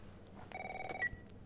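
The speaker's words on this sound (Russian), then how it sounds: "телефон звонит." A phone rings in The Last of Us video game, a single short tonal ring lasting about half a second and set against a quiet background.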